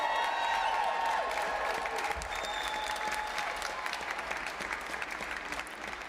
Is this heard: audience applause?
yes